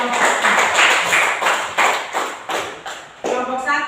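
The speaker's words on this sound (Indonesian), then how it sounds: "sekali lagi tepuk tangan dulu untuk kalian 3 kelompok" Classroom applause for three student groups, a series of claps and taps of uneven rhythm, fairly close and moderately loud.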